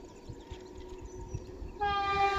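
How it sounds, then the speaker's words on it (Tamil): A Vande Bharat train approaches on the rails with a steady rumble, then a loud sustained horn blares near the end. "வந்தே பாரத் ரயில் தான் இங்கே பாருங்க"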